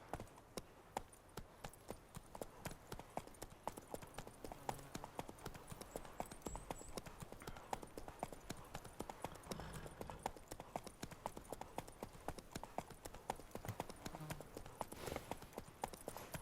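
Hooves of Roach, Geralt's horse in The Witcher 3, galloping through a ransacked village, a rapid steady clip-clop rhythm throughout, fairly close, with occasional faint speech underneath.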